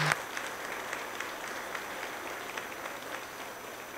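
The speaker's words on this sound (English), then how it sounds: "let's applaud them for their hard work" A roomful of people at a workforce graduation ceremony applaud steadily, an even patter of many hands clapping at moderate distance.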